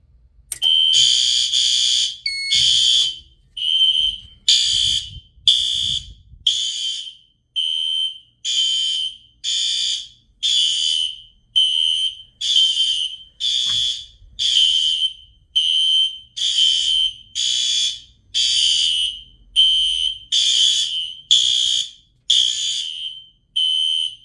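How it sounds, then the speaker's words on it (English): A smoke detector on a fire alarm system sounds its drill mode, a loud, shrill, piercing tone pulsing in a steady repeating pattern of short blasts for over twenty seconds, close and alone. "we're going to use the drill feature."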